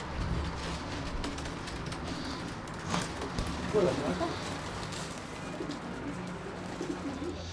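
Racing pigeons kept by a champion fancier coo softly under steady background noise, their low calls faint and partly masked by a voice talking nearby.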